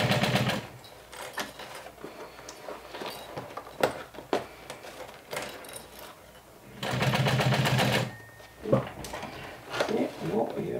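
Domestic sewing machine stitching the right sides of a backpack bag together, running in short bursts and one longer run, with a person talking between and over the stitching.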